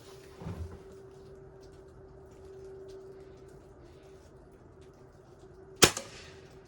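An Umarex Synergis Elite .177 air rifle fires one sharp, close crack near the end, with a brief ringing tail, while outdoors shooting at 20 yards. A softer thump comes earlier over quiet background hum.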